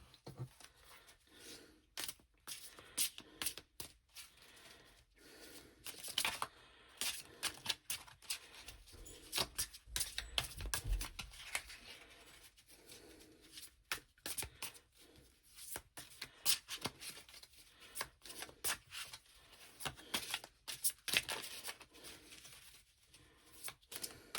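Tarot cards shuffled and handled during a card reading, a dry papery rustle of quick flicks and slides in irregular bursts, close and quiet with no talk.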